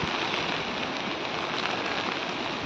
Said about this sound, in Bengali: প্রচুর বৃষ্টি হচ্ছে, ঝড় হচ্ছে সাথে